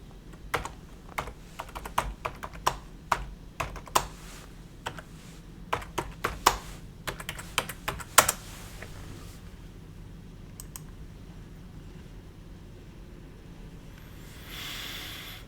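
Quick bursts of typing on a computer keyboard, crisp nearby keystrokes clustered in the first half, then fading to quiet room hum with no talking.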